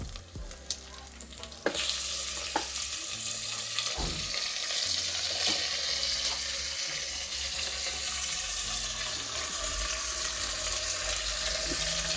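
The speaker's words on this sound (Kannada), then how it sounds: "ಇವಾಗ ಮಟನ್ನ ನಾನು ಆ್ಯಡ್ ಮಾಡ್ಕೋತೀನಿ" Half a kilo of mutton drops into a hot pan for biryani with a sudden burst into loud, steady sizzling, followed by scattered stirring clatters over a constant close frying hiss, with no talking.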